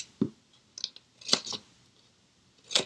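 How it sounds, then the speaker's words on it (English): Scissors snip through scored card for a gift box, a few short, crisp cuts spaced irregularly and heard up close in a quiet room. "I'm going to cut on this score line all the way to there"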